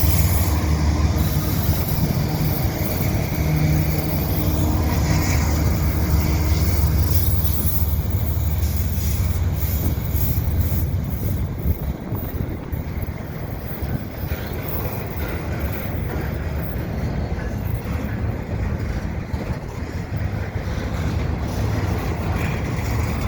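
A CN double-stack freight train rolls past at Dorval in winter, its loud continuous rumble and clatter of wheels on rails holding steady throughout, with faint squealing and no talk.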